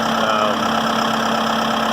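A Massey Ferguson 2705e tractor engine idling smoothly, a steady close drone with an even low hum and no talking.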